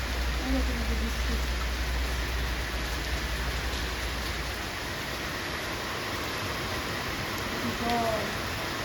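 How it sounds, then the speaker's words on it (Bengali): Rain falls in a steady broadband hiss, drenching the area around a house and its guava trees, with some faint voices in the background. "এই দেখো বৃষ্টি"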